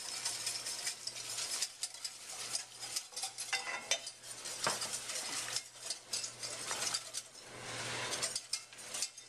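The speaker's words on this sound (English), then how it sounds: "I'll just add the remainder of the milk here, whipping it up." A whisk beats hot milk into a roux for Alfredo sauce in a pan. Rapid metallic scraping and stirring clatter continues throughout with an uneven rhythm, close and fairly quiet over a low hum.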